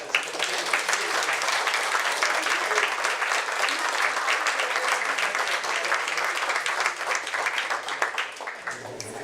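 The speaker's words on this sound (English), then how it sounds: "I wanted everyone to give her a round of applause for a very interesting introduction" Audience applause after an introduction at an AI prototype launch event in a London law office, a full room clapping steadily and loudly before tapering off at the end.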